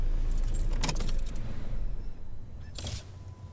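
Car keys jangle in an ignition with a couple of short metallic rattling bursts, near and clear, while the parked car's low engine hum sits underneath.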